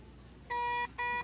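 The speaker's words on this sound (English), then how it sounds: "That is what a brand new Fonzie beep ball sounds like" A brand new Fonzie beep ball used in beep baseball gives two loud electronic beeps, each a steady tone lasting about a third of a second, separated by a short gap and heard clearly over quiet background.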